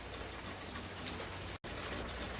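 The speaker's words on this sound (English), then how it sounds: "this is currently what my yard looks like from all this rain" Steady rain falls on a backyard, a dense even hiss of drops, soft and continuous with a brief dropout near the middle.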